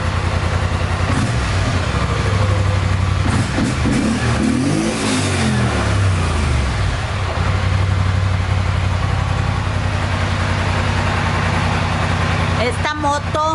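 A new motorcycle's engine runs loud and close, its pitch sweeping up and down as it revs, with people talking over the steady engine noise.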